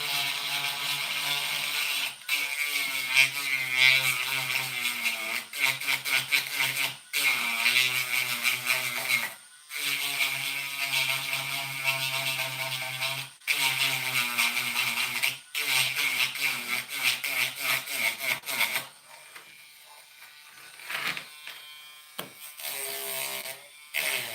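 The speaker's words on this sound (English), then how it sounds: "Trying to grind all these joints down to be perfect." A rotary tool grinds down the plastic joints of a model Dragonslayer sword. The loud buzzing whir runs steadily in repeated bursts with brief pauses, then gives way to quieter, intermittent handling sounds near the end.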